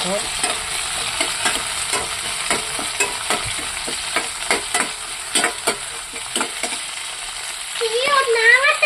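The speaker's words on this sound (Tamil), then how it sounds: "இந்த ஸ்டேஜில் வந்து நம்ம தக்காளி போட்டுக்கலாம் தக்காளி போட்டு கொடுக்கணும்" Onions and tomato fry in oil in a pan for a goat spleen dish. A steady sizzle runs under a rhythmic series of scraping stirs, and the hiss swells louder near the end.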